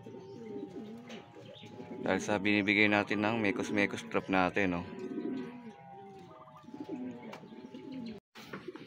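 Racing pigeons in a loft after a training flight from Rosario, La Union, cooing softly through the clip beneath someone talking nearby.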